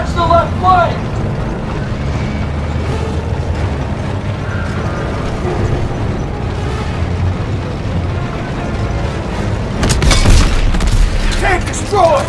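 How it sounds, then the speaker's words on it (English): Heavy booms and rumbling blasts erupt as a tank is destroyed in Call of Duty WW2, with gunfire and mechanical clatter around them and shouting voices over the battle; a sharp explosive burst hits near the end. "Tank destroyed!"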